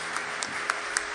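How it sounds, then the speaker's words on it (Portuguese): Congregation in a church applauding, a soft, steady patter of many hands clapping at a distance with a few sharper claps standing out now and then. "dê uma salva de palmas ao Senhor"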